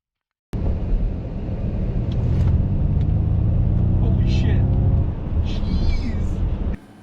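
A Ford Mustang Mach-E gives off its synthetic electric propulsion hum, a continuous droning tone that swells and shifts in pitch nearby for several seconds, with voices briefly heard over it.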